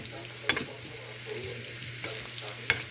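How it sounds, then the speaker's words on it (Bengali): Onion, garlic, ginger and whole red chilies fry in oil for a tempering, giving a soft, steady sizzle with occasional stirring scrapes and clinks of a utensil against the pan. "বাগার দেওয়ার জন্য আমরা ভাজতেছি"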